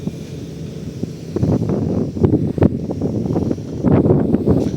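Water rushes past a launch boat travelling from Dhaka to Bhola, a loud continuous roar and hiss buffeted by strong, gusty wind against the microphone.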